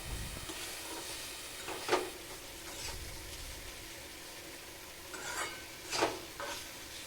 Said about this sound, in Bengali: আলুগুলোকে গুঁড়ো করে দিই খুন্তি দিয়ে ঠকর ঠকর করে